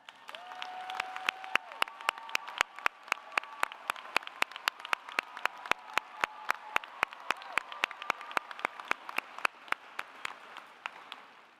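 An audience applauds international students at a university graduation ceremony, a sustained wash of clapping from a large crowd with many sharp individual claps standing out throughout.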